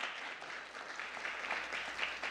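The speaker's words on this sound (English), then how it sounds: "So let's give her a big round of applause." A room full of people at an Agoura Hills city council meeting clap together, a soft and fairly distant wash of hands that holds steady for a couple of seconds with no speech over it.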